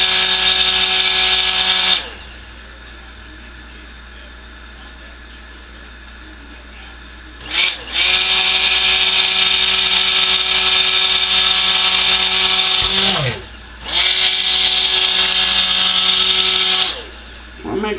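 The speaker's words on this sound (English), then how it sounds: "I'll pour a little stick blender here." A handheld stick blender whirs loudly as it mixes cold process soap batter, running in long bursts of several seconds with brief pauses between them, a steady high motor whine with no one talking.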